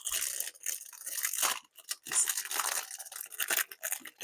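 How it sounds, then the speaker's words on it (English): Plastic packaging crinkling and tearing up close while resin jar molds are unboxed, in bursts of crackly rustling separated by short pauses. "Sorry for the crinkly noise."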